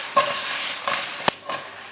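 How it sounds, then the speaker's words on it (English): Potatoes sizzle in a pan for a Sicilian-style lamb dinner, giving a steady frying hiss broken by a few rhythmic shaking swooshes and sharp knocks of the pan. "So they've been now sizzling for a good 10 minutes."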